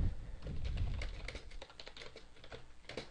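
Steady typing of text into a wiki page on a computer keyboard, rapid close keystrokes in an even run over a low room hum, with no voice.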